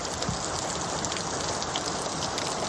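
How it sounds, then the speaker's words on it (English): Heavy rain mixed with hail falling outside, a dense, continuous hiss of drops drumming on surfaces, close and steady throughout the short stretch with no voices. "So it's hailing outside right now."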